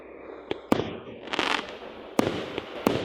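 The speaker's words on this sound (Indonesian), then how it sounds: "Itu adalah jenis kembang api." Fireworks bursting in a short series of sharp cracks, with several distinct bangs spread over a few seconds and a brief rushing crackle between them.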